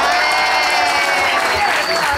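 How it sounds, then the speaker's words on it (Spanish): Loud, close applause and some cheering from guests at a birthday party, a dense continuous burst of clapping with voices mixed in. "Fuerte los aplausos, damas y caballeros."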